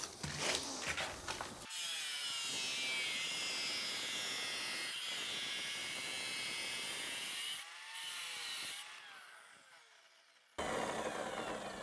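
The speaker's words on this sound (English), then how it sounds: "having a professional saw makes a world of difference" A professional wet tile saw cuts through 12 x 24 tile, a loud sustained high grinding whine running steadily for several seconds, dipping near the end before the motor noise returns strongly, with no voices.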